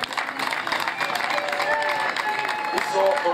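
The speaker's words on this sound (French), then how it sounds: "Je vous prie d'applaudir" An audience applauds the teaching staff at a school holiday-program ceremony in Njisse-Foumban, with sustained clapping and some cheering and crowd voices throughout.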